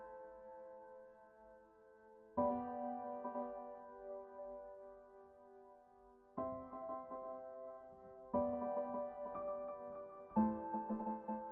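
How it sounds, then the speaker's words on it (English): A piano melody run through the RUINER effect plugin with a granular effect, tiny chopped grains of the notes arriving slightly after the main theme; sustained tones with new chords entering every couple of seconds, growing denser and more complex, no talking. "It's chopping up the sound into really tiny pieces and then reintroducing those back into the signal at different stages."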